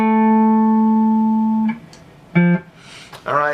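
A major sixth interval, C up to A, played on a single sustained tone with clear harmonics, followed by two brief harmonic notes later, with a voice speaking near the end.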